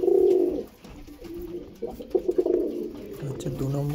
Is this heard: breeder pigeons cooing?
yes